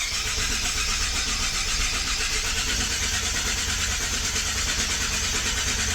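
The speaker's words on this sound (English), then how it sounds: "hold the gas pedal to the floor while you're cranking it so it won't start" A 2017 Ford F-150 EcoBoost engine cranks steadily with the gas pedal held to the floor, turning over without catching. The whirring starter drone runs unbroken for six seconds with no voices.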